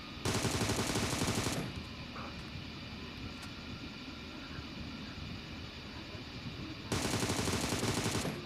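Automatic M762 rifle fire in PUBG on the Livik map, two long loud sustained bursts with a quieter ambient stretch between them.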